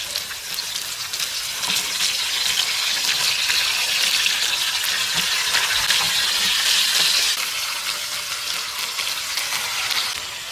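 Kerala-style fish fry, Olakkodiyan fish, sizzling in oil in a pan: a steady, close hiss of frying that holds at an even level throughout with no voices.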